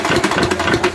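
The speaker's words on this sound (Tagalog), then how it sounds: "Ito na siya hihilain para mag-start yung makina." Small gasoline engine on an abaca fiber stripping machine sputtering as it is pull-started, a close, loud, rough pulsing run with rapid irregular firing beats throughout.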